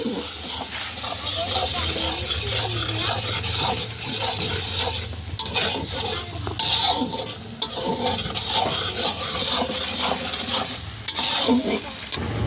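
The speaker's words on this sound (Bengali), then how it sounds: "আবারও নেড়ে চলেছে যেহেতু উনুনে রান্না হচ্ছে তাই অনবরত নাড়তেই হচ্ছে নাড়তেই হচ্ছে খুন্তি বন্ধ করার কোনো উপায় নেই" Metal spatula stirring meat in a pot over a clay wood-fired stove outdoors, with steady close-up sizzling and continuous scraping strokes throughout, and no clear talk.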